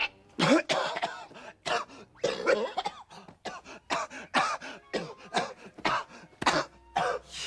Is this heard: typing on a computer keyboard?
no